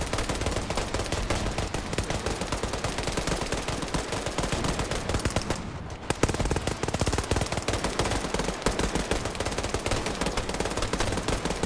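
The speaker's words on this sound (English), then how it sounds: "You hear the single shots, those are the shotguns from the underbarrel." Dense, nonstop gunfire from a Starship Troopers video game battle, including single underbarrel shotgun blasts mixed into rapid automatic fire, stays loud throughout with only a brief dip midway.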